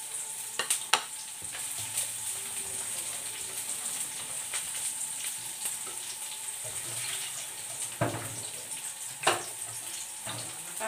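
Onion sizzles steadily in a hot pan after garlic has been sautéed, with a few clinks and scrapes of stirring over the constant hiss. The pan is cooking for an egg curry.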